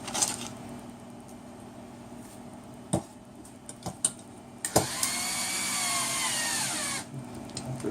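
A power drill drives screws into a wooden frame during assembly, with short bursts of whirring and clicks early on, then a longer sustained spin lasting a couple of seconds before stopping, heard close and alone.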